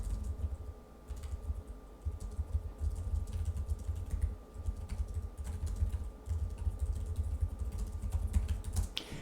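Rapid, quiet clicking of keys on a Lenovo ThinkPad T14 Gen 4 laptop keyboard, a continuous typing rhythm close by with a faint steady hum behind it.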